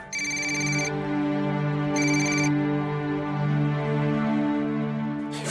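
A phone ringtone plays in a Marathi TV serial scene, two short bright electronic bursts, the second briefer, over a steady sustained tonal background.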